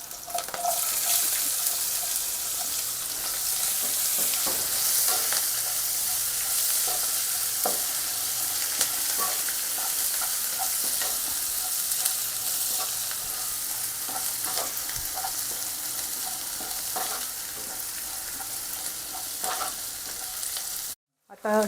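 Chillies and onion frying in a pan give a steady loud sizzle, with clinks and scrapes from stirring scattered throughout, then a brief cut-off at the end.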